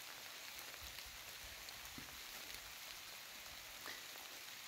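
A light drizzle falls outdoors as a soft, steady hiss of fine rain with a few faint drops tapping nearby, quiet and unbroken, with no talk.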